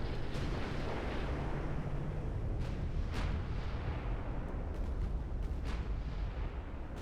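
Battleship gunfire in the naval video game Dreadnought Improvement Project, a steady low rumble of distant cannon fire with a few sharper reports cutting through.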